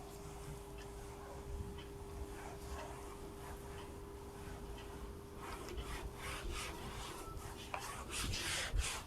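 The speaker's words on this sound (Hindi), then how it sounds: "फिर मैं इसे रब करता हूं, क्योंकि मेरे पास स्थान यानी स्पेस कम है।" Writing being rubbed off a classroom board during a class 12 maths lesson, a steady dry scrubbing rasp with rhythmic strokes that grow busier toward the end, alongside a faint constant hum.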